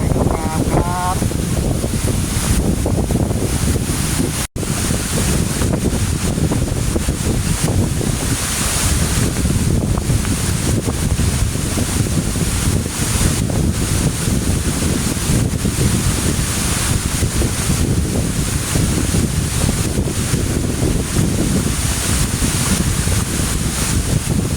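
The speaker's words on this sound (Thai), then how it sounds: "อันนี้คือฐานสุดของน้ำตกครับ" Heavy water roars at the base of a waterfall near Phetchabun town in Thailand, a loud continuous rushing wash with wind buffeting the microphone throughout.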